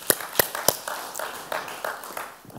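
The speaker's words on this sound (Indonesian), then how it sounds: "Berikan tepuk tangan untuk Tuhan Yesus." A church congregation claps in scattered bursts during an Indonesian Sunday service, a few sharp hand claps followed by looser, softer applause over a couple of seconds.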